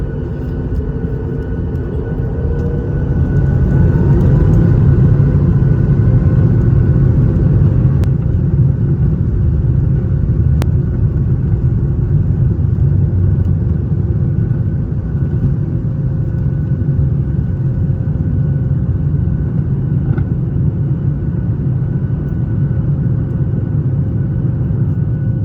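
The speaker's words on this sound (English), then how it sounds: "We are now on the runway with the lights turned on." A United Airlines Boeing 737 on an early-morning economy flight roars down the runway for takeoff, heard from inside the cabin as a loud, steady low rumble of engines and rolling wheels that builds up and then holds.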